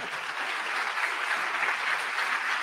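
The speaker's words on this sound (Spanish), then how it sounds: "Un aplauso, oigan." An audience applauds steadily, a dense wash of clapping hands that holds at an even level throughout.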